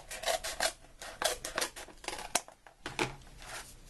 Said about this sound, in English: Just going to cut pieces.